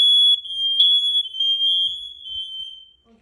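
A home smoke alarm being tested, a loud piercing high-pitched continuous tone close by that holds for nearly three seconds before cutting off, with no talking over it.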